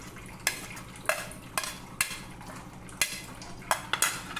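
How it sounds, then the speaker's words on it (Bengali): Grated carrot, onion and green chilli are stirred into chilla batter in a bowl, a spoon giving repeated wet scraping clinks roughly every half second against a quiet background. "এটা আমি ব্যাটারের সঙ্গে ভালো করে মিশিয়ে নিচ্ছি।"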